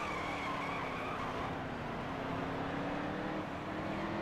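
A NASCAR Heat 3 stock car at Martinsville, loose on worn tires, slides through a corner with a steady engine drone and faint tire scrub underneath, even and continuous.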